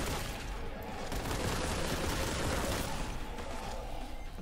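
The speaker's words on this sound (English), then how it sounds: "I'm going to shoot a heretic now." Dense, continuous gunfire from the video game Warhammer 40,000 Boltgun during a boss fight, a loud sustained barrage of overlapping shots with no gaps.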